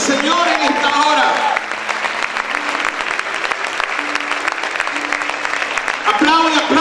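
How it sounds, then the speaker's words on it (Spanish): A church congregation applauds strongly in a dense, continuous burst, while a voice keeps speaking over the clapping near and loud. "Aplaudir fuerte al Señor en esta hora."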